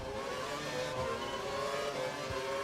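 Formula 1 race car engine in the F1 2012 video game, a steady high-pitched revving drone that runs loud and continuous throughout with no speech.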